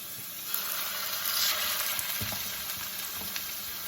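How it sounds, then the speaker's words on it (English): Well-seasoned turkey patties sizzle in an oiled pan over medium heat, a steady close crackle with a few sharper pops and spatters and no voices. "And now we're going to add our turkey patties."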